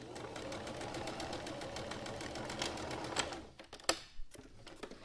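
Sewing machine stitching fabric for a homemade face mask, a steady rapid needle chatter for about three seconds that then stops, leaving a few soft clicks and handling sounds close by.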